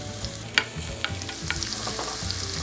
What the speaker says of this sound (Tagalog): at mainit na itong ating olive oil, ilagay na po natin ngayon ang sibuyas